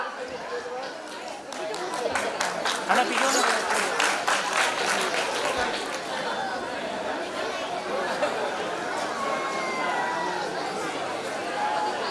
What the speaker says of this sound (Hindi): Let's give them a big round of applause as they take the stage.